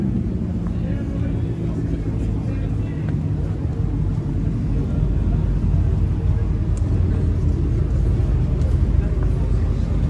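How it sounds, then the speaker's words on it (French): White Chevrolet Corvette rumbling at a classic car show, a steady low engine drone heard from nearby amid crowd noise and people talking. "C'est la Corvette blanche qui fait du bruit."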